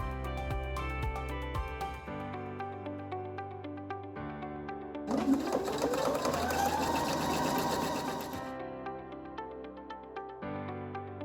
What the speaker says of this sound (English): we attach the two side panels with pins and sew them